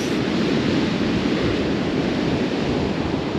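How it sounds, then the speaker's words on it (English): Rough, ice-cold ocean surf at Kill Devil Hills beach on the Outer Banks roars in a steady, loud wash of breaking waves, with wind buffeting the microphone. "this is definitely an ocean that you do not want to step into"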